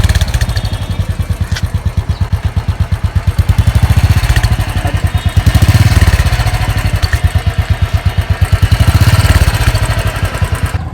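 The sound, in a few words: motorcycle engine idling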